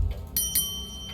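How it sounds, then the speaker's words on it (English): A small service bell in the video game The Séance of Blake Manor is struck twice in a hotel lobby, two bright, ringing dings close together, with a third faint tap trailing after over quiet background. "Time to ring the bell."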